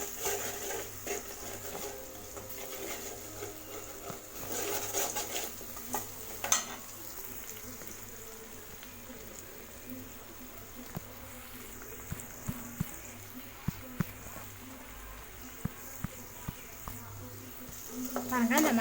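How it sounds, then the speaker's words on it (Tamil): Tomato and turmeric sauté gently in a pan for rava kichadi, giving a faint, steady sizzle with scattered soft clicks from stirring and no talk. "நல்லா ஒரு 1 நிமிஷம் இது நல்லா வதக்கி விட்டுருங்க."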